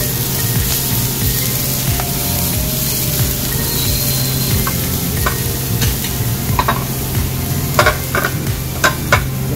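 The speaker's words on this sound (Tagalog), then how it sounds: "Naglagay na tayo ng langis. Ngayon naman, lalagay natin ang ating bawang." Garlic frying in oil in a wok for stir-fried spinach with scrambled egg, a loud steady sizzle close by, broken by sharp scraping stirs of the spatula toward the end.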